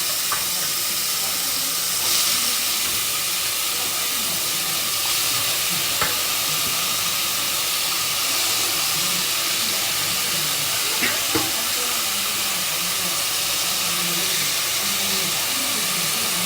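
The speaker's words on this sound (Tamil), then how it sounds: "இப்போ நம்ம காளான் இதில் போட்டு நல்லா வதக்க போகிறோம்." Mushrooms fry in hot ghee in a kadai with a dense, continuous sizzle and hiss, broken by a few faint scrapes of stirring.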